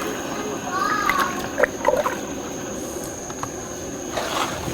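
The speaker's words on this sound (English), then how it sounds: "And we'll rinse this off." Water rinses soap off a car wash pad during a Subaru WRX detailing session, a steady hissing spray with a few splashy bursts and sloshes throughout.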